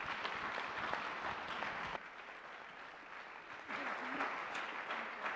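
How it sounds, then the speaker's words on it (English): Audience applause for the candidates at a university civic engagement forum, a steady, broad wash of many hands clapping at moderate distance that dips briefly in the middle and then swells again. "Let's have a nice round of applause for our candidates."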